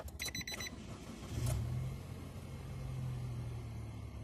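A 2016 Nissan Note N-TEC engine started by push button: a short clicking burst, then a brief starter whir and the engine catching into a steady, low idle hum, fairly quiet and heard alone.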